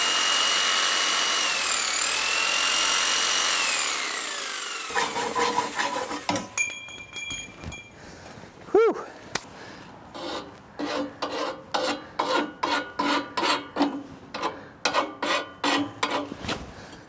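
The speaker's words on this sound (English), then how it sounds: "I'm going to cut it off on a bit of an angle, I'm going to use my hacksaw" Hacksaw cutting a Kubota B2601 tractor exhaust pipe at an angle, heard as a run of rhythmic rasping strokes that grows steadier and more regular toward the end, following a loud engine-like drone at the start.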